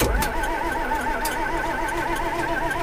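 A farm tractor engine cranks and catches, settling into a loud, steady close-up idle with a warbling, uneven rumble.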